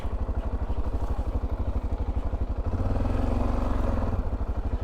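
A motorcycle engine chugs close by with a steady, pulsing thump and rises to a slightly heavier throb partway through, with no talking over it.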